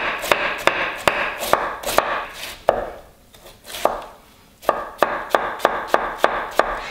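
A knife chops vegetables for cortido on a cutting board in quick, even bursts of sharp taps, pausing briefly midway before the rhythmic slicing resumes, close and crisp with no talking.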